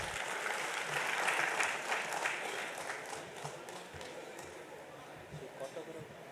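A convention hall audience at an accountants' national gathering gives a round of applause, the clapping loudest early on and then thinning and fading toward the end, fairly faint overall.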